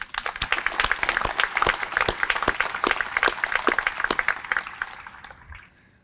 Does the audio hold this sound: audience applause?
yes